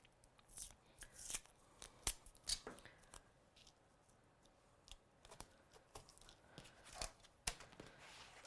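Scissors snip through watercolour paper stamped with stars in a quiet, close series of sharp, irregular cuts, with soft paper rustles between them.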